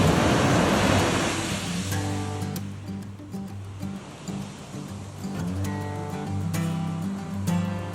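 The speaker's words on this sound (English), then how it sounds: "let's get to the ocean, little waves." Small ocean waves along the shore in Los Angeles, a steady washing surf hiss that swells and recedes, with a musical tone running underneath.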